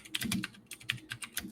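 Someone types on a computer keyboard in quick, uneven bursts of clicking keystrokes, close and fairly quiet, with no talk.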